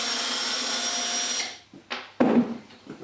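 A power drill backs screws out of a board on a wooden garden gate, a steady close whir that cuts off, followed by a couple of short bursts and a loud scraping clatter.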